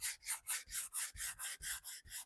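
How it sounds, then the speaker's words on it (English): Sandpaper rubbed back and forth over a painted bowl, a steady rhythmic rasping of about ten strokes, close and fairly quiet with no talk. "So I'm going to take some sandpaper and sand it."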